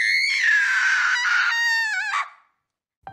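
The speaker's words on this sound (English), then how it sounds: "We heard a shriek from Kim." A loud, sustained shriek in a horror story, a harsh, wavering cry lasting about two seconds that cuts off abruptly, followed by silence and a brief knock.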